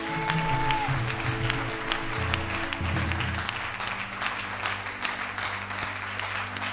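A church congregation claps and cheers loudly and steadily throughout, a continuous wash of applause with a musical hum underneath.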